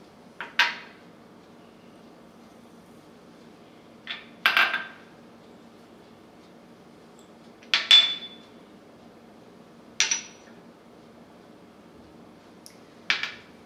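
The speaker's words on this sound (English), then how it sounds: "We're going to add everything to the ground beef." Eggs, breadcrumbs, salt, pepper and oregano go into a bowl of ground beef: five separate short clinks and taps spaced a few seconds apart, close and fairly crisp against a quiet room.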